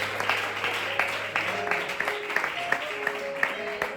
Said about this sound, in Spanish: Esta ofrenda de aplauso para el Rey de Reyes y el Señor de Señores.